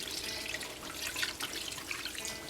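Tap water runs into a kitchen sink while raw chicken is rinsed, a quiet, steady splashing stream with irregular spatters.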